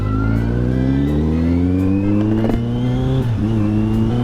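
A car accelerating hard with a loud, steady engine note climbing in pitch, then dropping sharply as it shifts up a gear before climbing again, close and continuous with no talking.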